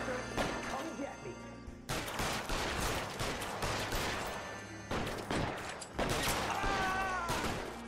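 Gunfire crackles through a shootout in the video game L.A. Noire, with dense volleys of shots and crashes that carry on almost without a break. A voice talks over the action now and then.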